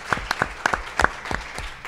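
Scattered applause from a law symposium audience, a handful of distinct sharp claps spaced unevenly and fairly close.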